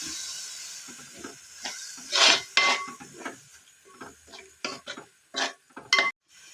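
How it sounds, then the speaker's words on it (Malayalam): Tapioca and bones being stirred in a pot after water is added, while making kappa biriyani: a series of short scraping, clinking stirs in uneven bursts with a soft background hiss, no talk. "വെള്ളം ഒഴിച്ചിട്ടൊന്ന് ഇളക്കാം അങ്ങോട്ട് നല്ലപോലെ ഇളക്കാം"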